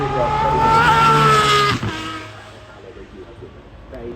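A mid-engine Aston Martin race car at the Goodwood Festival of Speed roars loudly past, engine pitch climbing then cutting off abruptly as it passes, leaving a fading rumble and crowd ambience.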